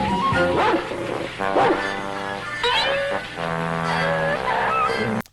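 A cartoon dog barks repeatedly in an animated Christmas special, loud yipping and woofing mixed with honking, foghorn-like music and sound effects, close and busy throughout.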